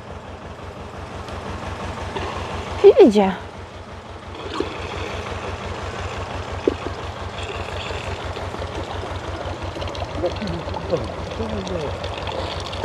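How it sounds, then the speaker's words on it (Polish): A syrup pump driven by a tractor's PTO shaft runs with a steady, low mechanical drone while bees are fed. A brief louder clatter comes early on, and a voice speaks over the hum. "Pompa napędzana przez wałek z ciągnika"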